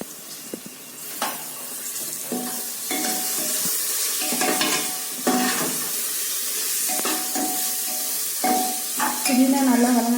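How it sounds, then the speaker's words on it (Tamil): Mint leaves are sautéed for chicken biryani in a pan, with sizzling and frying hiss under repeated scraping stirs of a spoon; a few clinks and faint background noises break in. "இப்போ நம்ம எடுத்து வச்சிருக்க புதினா இலையை அதோட போட்டு நம்ம வதக்கணும்."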